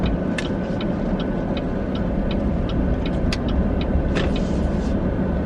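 A car drives steadily on the road, heard from inside as a constant low rumble of engine and tire noise, with a faint rhythmic turn-signal ticking over it and no talking.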